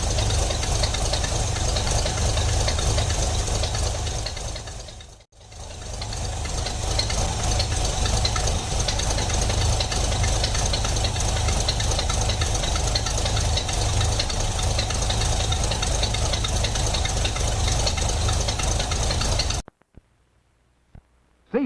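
A 1957 Studebaker car engine idles steadily and loudly up close, its rough running note with a knocking edge continuing almost unbroken for most of the stretch before cutting off abruptly near the end.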